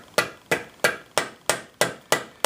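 A rubber mallet taps steadily on the end of an ATV axle shaft to drive it out of a stretched trailing arm on a Can-Am Outlander 850, seven evenly spaced sharp knocks about a third of a second apart, close and clear with no talk.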